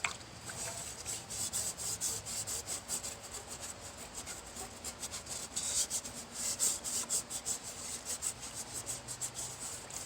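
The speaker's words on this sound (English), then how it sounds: "And then I rub it around the edge, and it acts like a grit to get some of this built up stuff off the edge." Gritty water scrubbed by hand around the edge of a sooty camp cooking pan outdoors gives a steady, continuous rasping rub with quick repeated strokes, close and fairly loud throughout, with no talk.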